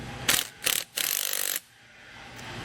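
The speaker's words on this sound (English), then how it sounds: "I'll come in with a 9/16 socket and just snug it down." A ratchet with a 9/16 socket snugging down a bolt on a SumoSprings rear helper spring install, two short bursts of clicking followed by a longer run of rapid pawl ticks, close and clear.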